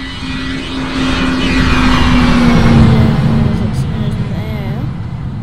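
A plane takes off in the Roblox game Project Flight, its loud, steady engine drone swelling as it climbs, with a voice talking over it.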